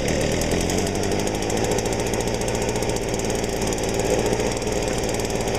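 A small two-stroke engine on a string trimmer or leaf blower runs at a steady, close, buzzing idle with a fast, even rattle throughout.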